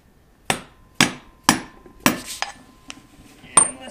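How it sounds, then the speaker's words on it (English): Four evenly spaced dead blow hammer taps strike a BMW driveshaft center support bearing, followed by a few lighter irregular knocks and a sharper final hit, close and dry. "And I like to use a dead blow hammer."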